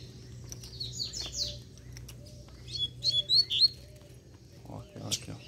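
Collared seedeater chirps, short bright high-pitched tweets in small bursts that are fairly close, over a low hum with faint background murmurs.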